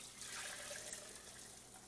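Chicken broth poured into a pot of rice for croquettes, a faint, steady liquid rush and trickle heard close up with no talking.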